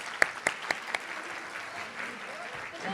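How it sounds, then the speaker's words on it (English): A few sharp, separate claps open a faint, steady round of applause from the audience at a PTK honor society induction ceremony for new inductees, continuing at a distance without talk. "let's give all our inductees from 2020 and 2021 a round of applause."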